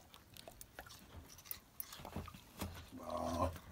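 A dog eats watermelon close by, with wet chewing, biting and crunching sounds and some panting, louder and denser toward the end.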